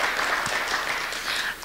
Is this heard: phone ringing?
no